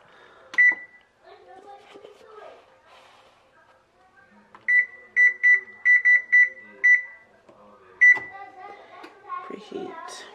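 An oven being set to preheat beeps: a single sharp beep, then a rapid run of about six button beeps and another lone one, with a person talking and music playing underneath.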